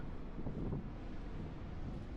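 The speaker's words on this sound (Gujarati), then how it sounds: "એકદમ સાફ હવા ચાલે છે" Coastal wind on the Great Ocean Road in Victoria, Australia, in winter buffets the microphone as a constant low, rumbling roar, close and unbroken for the whole moment, with no one speaking.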